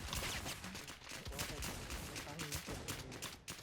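Rapid automatic gunfire from a carbon gun in an online shooting game crackles in quick bursts throughout, mixed under excited talking.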